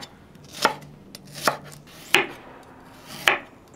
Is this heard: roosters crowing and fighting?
no